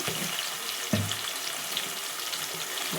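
Onions fry in a pan for a chicken, potato and chana dal curry, giving a steady, dense sizzle with a couple of soft clunks from stirring, close and continuous.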